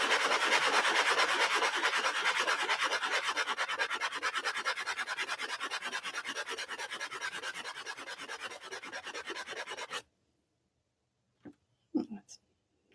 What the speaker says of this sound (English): just take a sanding sponge, and this is 100 grit, and just rub that sharp edge along on the top here